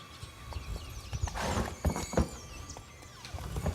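A horse in The Witcher 3 breaking into a gallop, hoof clip-clops quickening around a whinny, close and moderately loud with thudding steps.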